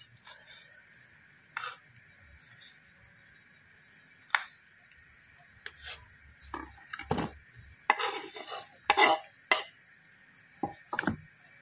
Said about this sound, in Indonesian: Kita potong kecil-kecil, tapi jangan terlalu kecil